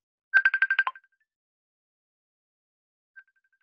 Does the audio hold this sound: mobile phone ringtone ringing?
yes